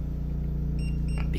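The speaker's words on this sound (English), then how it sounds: "we have our 240 voltage hub beeping because it is mad at me" A 240-volt power station hub beeping, a short electronic tone over a steady low mains hum, close and fairly loud.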